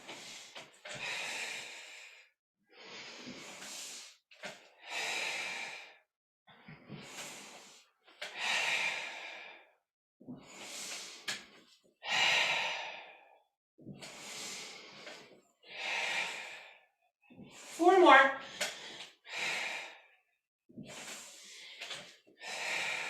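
Heavy, rhythmic breathing during a set of squats at a home functional strength workout with a chair and weights, with repeated loud exhales and sharp breaths spaced a second or two apart, close up with no talk.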